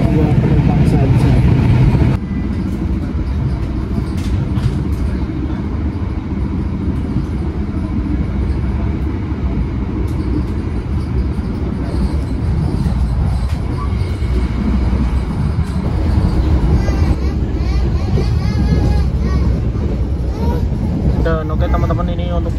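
Inside a moving executive-class carriage on the Madiun Jaya train as it passes Gombong station, a loud steady rumble and rattle of the coach rolls on throughout with a brief shift partway.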